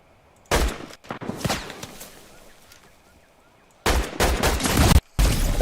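Gunfire in a first-person shooter video game: loud bursts of rapid shots in two main volleys separated by a quieter stretch, crisp and close, with no speech over them.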